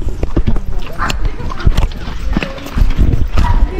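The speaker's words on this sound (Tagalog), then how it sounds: "Uy, may kabayo." Horse hooves clip-clop along a riverside trail near Daraitan River, a few uneven steps close by, mixed with scattered voices and outdoor bustle.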